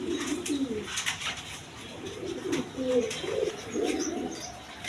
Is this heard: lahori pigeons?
yes